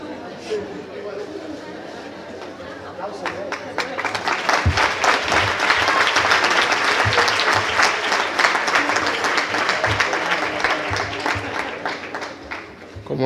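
Audience applause at a medical conference session on severe trauma training, swelling from a murmur of chatter into steady, loud clapping that holds for several seconds and then slowly tapers off.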